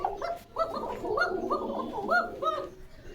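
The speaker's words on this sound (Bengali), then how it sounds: "বোঝা যাচ্ছে যে কবুতরের ডাক আছে" Pigeons held for sale at a pigeon shop in Bogura coo in soft, rolling bursts close by, several repeated calls over a low background hum.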